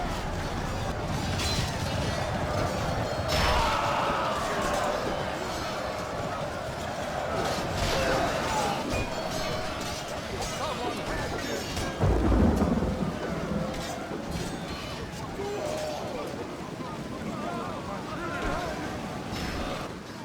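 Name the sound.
battle sounds in rain, Medieval II Total War video game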